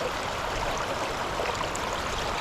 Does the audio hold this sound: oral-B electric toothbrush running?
no